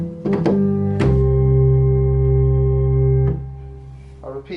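A church organ plays a phrase of the hymn tune Abbot's Leigh, sustained chords with a deep bass, held loud and close for a few seconds, with chord changes and a brief stop near the end.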